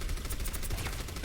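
Rapid, dense gunfire rattling continuously through a short burst in a competitive video game match, loud and close, with no talk over it.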